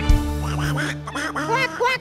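A duck gives a series of four or five nasal, raspy quacks in quick succession, close and fairly loud, amid a noisy game-show setting.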